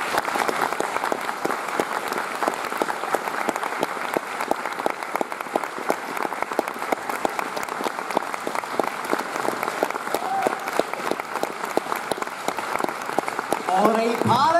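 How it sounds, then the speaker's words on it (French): An audience at a Paris film screening applauds steadily, a dense sustained clatter of many hands clapping, loud and continuous until a voice begins at the very end. "Je vous demande d'applaudir comme il se doit John McFell"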